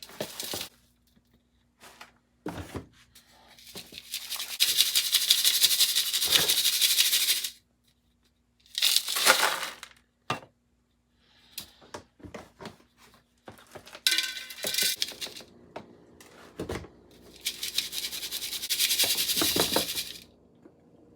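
Alaskan gold paydirt is shaken through a metal classifier screen, bursts of gritty rattling and clinking gravel separated by short quiet pauses, close and fairly loud.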